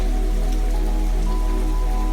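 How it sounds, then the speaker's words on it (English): Steady rain falls on a city, drops tapping on windows and splashing into puddles, a continuous soft hiss with a faint low hum beneath it and no voices. "liked to listen to the raindrops tapping on windows, splashing into puddles, and whispering through the few trees that grew in the city"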